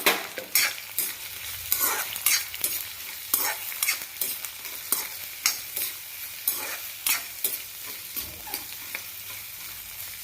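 Sliced onions fry in a pan for an okra stew, a steady close sizzle broken by rhythmic scraping strokes of a spoon stirring them roughly every half second, with no talking.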